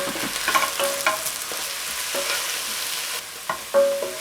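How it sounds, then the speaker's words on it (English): Spinach seasoned with salt and pepper sizzles steadily in a pan, a constant frying hiss broken by occasional stirring scrapes and clinks, close by with no talking. "I'm just cooking the spinach for about 3 minutes or so"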